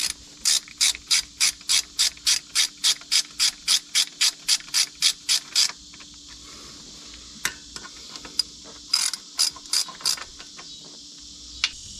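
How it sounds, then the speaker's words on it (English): A ratchet snugs up the valve body bolts on a Porsche transmission: a fast, even run of sharp clicks for about six seconds, then quieter handling and a few short clicking bursts, close up with no talking. "I'm going to go through and snug them all up,"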